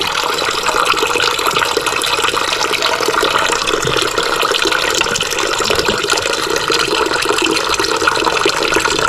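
Water drains steadily with a loud, continuous rushing hiss while a new toilet float is installed, holding constant with no breaks.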